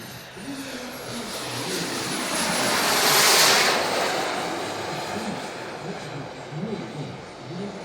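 A 2.5 m Tomahawk Futura 3D RC jet with a turbine engine and thrust vectoring runs steadily with a loud, broad roar and high whine that swells midway as if passing closer, then eases, with faint voices underneath.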